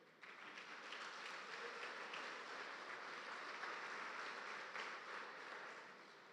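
A church congregation applauding steadily for several seconds, a dense, even patter of many hands clapping at moderate loudness with no talking over it.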